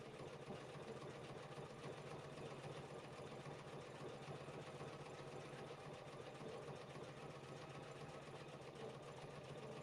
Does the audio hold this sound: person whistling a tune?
no